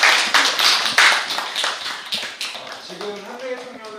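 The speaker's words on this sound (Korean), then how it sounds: "박수 한번 보내주시겠어요?" A small audience at a youth community discussion forum gives a short round of clapping. Scattered, close hand claps start strong and thin out as voices take over.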